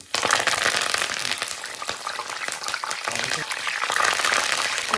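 Curry leaves crackle and sputter in hot oil while masala peanuts are being made, a dense, steady hiss with sharp pops across the whole stretch.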